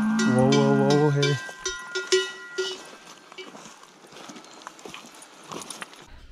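A cow wearing a cowbell follows hikers on a circular mountain walk near Gunzesried. It lows loudly at first, then the bell clanks and hooves clop irregularly nearby as it walks behind.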